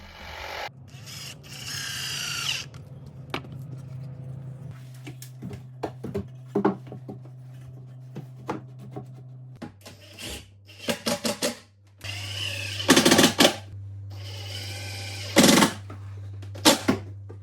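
Screws are driven with a power drill to join pre-assembled kitchen cabinet walls. Short whirring bursts and clattering ratchet-like clicks sound up close over a steady low motor hum.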